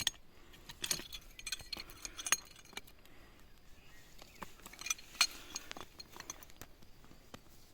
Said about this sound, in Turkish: Bir tarafı da diğer yeni aldığım anahtarla sıkacağım